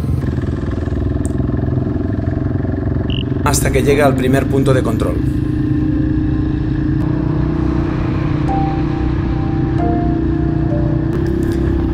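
A Dakar Rally motorcycle rolls slowly out of the paddock with a low, steady engine rumble, recorded close up. Someone talks over it almost the whole time.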